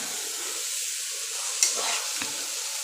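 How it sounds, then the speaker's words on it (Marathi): Food sizzles softly in a pan with homemade ghee as it is stirred, a steady faint hiss with one brief clink of the utensil partway through. "आता हे पूर्ण हलवून घेऊया"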